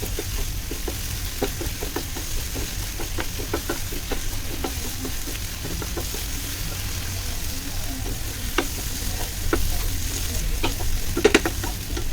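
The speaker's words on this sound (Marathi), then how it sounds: "आता हे तेल सुटेपर्यंत छान आपल्याला परतून घ्यायचं आहे" Masala sizzles in oil for a jackfruit seed and prawn curry, a steady close frying hiss with frequent light taps and scrapes of a spoon stirring, continuing without speech.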